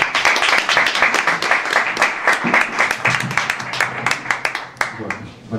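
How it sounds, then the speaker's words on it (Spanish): An audience claps steadily, a dense patter of many hands close by, thinning slightly toward the end with a few voices underneath. "Así que un aplauso para Andrés Catalán."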